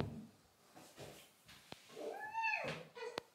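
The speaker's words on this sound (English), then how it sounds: "Talking to a cat." A house cat lets out one quiet, close, rising-and-falling meow near the end, after some faint soft rustling and a couple of light clicks in an otherwise hushed room.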